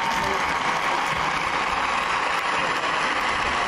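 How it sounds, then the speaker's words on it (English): Audience applause at a Six Flags Great Adventure stage show, a steady wash of clapping that stays even and moderately loud throughout. "Everyone give her a big round of applause."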